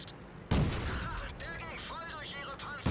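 Tank cannon fire booms out in a World of Tanks battle, one heavy shot followed by a long rumbling tail and faint battle noise, with a voice speaking over it.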